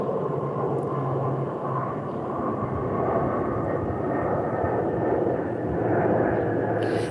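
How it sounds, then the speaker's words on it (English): Airplane flying overhead, a steady, moderately loud engine roar and broad rumble that holds for several seconds and swells slightly toward the end, heard without speech. "Let's wait for the plane to go by."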